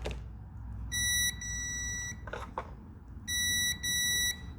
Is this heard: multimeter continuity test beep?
yes